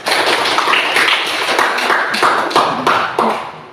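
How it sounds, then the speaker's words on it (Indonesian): A class of students claps together with their teacher in a dense, loud burst of hand claps, with stronger accented claps falling every half second or so. "Tepuk tangan untuk kita semua."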